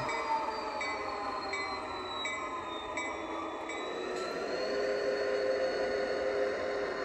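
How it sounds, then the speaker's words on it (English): A steady rumble of a model railroad train running along the track, with faint metallic squeals and rhythmic clicks over continuous wheel noise. "Unless, of course, it's a model railroad."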